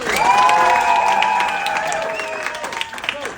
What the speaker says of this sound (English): can I get that 10 level of applause?